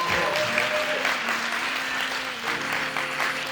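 A season-opening live show audience claps steadily, a dense mid-distance wash of hands with faint tonal music threading through, holding at an even level for a few seconds.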